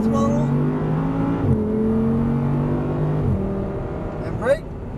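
An Audi R8 on a race track accelerates with rising engine tones, gear-like pitch steps and a brief whoosh near the end, loud and continuous beneath an instructor's voice.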